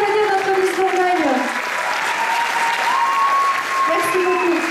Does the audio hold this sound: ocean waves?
no